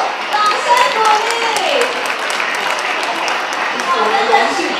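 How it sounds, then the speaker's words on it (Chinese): An audience at a company's 50th-anniversary magic show claps with scattered, crisp hand claps, heard under continuous close talking from a performer. "大家掌声鼓励一下"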